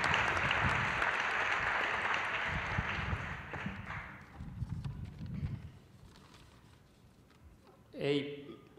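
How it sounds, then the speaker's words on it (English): Audience applause at an RIT semester conversion celebration, a loud dense burst for about four seconds that thins into scattered claps, with a voice speaking briefly near the end. "Let's give everyone a round of applause who was responsible for this."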